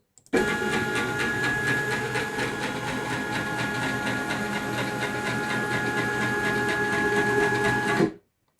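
A CNC router travels to its zero position, its motors giving a steady mechanical whir with a faint tonal hum that runs evenly for about eight seconds, then cuts off abruptly.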